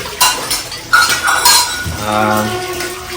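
Dishes being scrubbed and washed: pots and steel utensils clink and clatter close by in sharp bursts, with cutlery rattling and a trickle of running water, no one talking.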